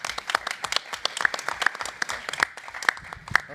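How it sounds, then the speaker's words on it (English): Audience applause at an economic forecast panel, a loud, lively burst of many hands clapping with sharp individual claps standing out, steady throughout. "so that level of applause was right here"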